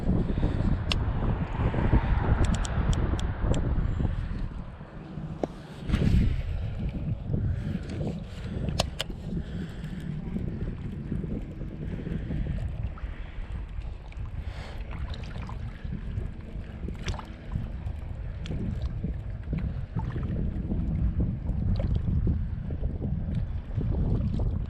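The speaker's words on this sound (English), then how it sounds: "Hopefully the wind isn't too bad for you through here." Gusty wind buffets the microphone at a lakeside reservoir, a loud rumbling roar that swells and eases for the whole stretch with no talking.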